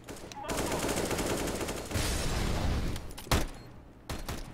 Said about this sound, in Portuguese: esse tava dando tiro da base